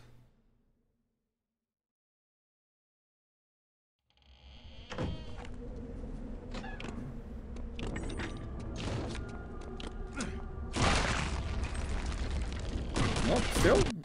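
Gunfire and explosions in the video game Return to Castle Wolfenstein, beginning after a few seconds of silence, with sharp repeated bangs, mechanical clatter and a loud burst near the end.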